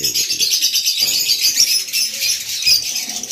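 Lovebirds in a breeding cage chirp continuously at close range, a dense shrill twittering chorus with overlapping calls and no pauses.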